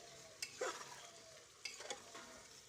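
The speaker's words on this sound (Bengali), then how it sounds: "এবার মাংসের সাথে আলুগুলোকে ভালো করে খুন্তি দিয়ে নেড়ে চেড়ে মাখিয়ে নেব।" Mutton and potatoes turned with a spatula in a pan, faint sizzling under two short bursts of scraping and clattering strokes, quiet and close, no talk.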